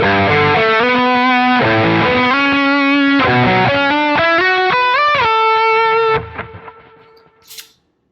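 A distorted electric guitar through a Kraken amp model with a Jack pedal in front on a Quad Cortex plays a sustained lead melody with bending notes, loud and saturated, then cuts off and rings out briefly into quiet.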